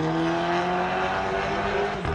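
A 2010 Volkswagen Tiguan 1.4 TSI with its muffler removed drones loud and close, a steady raspy exhaust note holding at a constant pitch.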